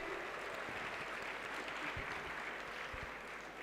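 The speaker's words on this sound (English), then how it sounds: "Give a big round of applause" Audience applause for a speaker at a leadership session, a soft, distant, continuous patter of many hands clapping with a low room hum beneath.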